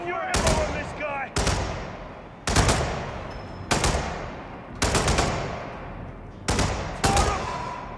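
Bursts of video game gunfire from Hitman: World of Assassination, loud and close, firing in about seven sharp volleys that each ring out and decay before the next, with no talk over them.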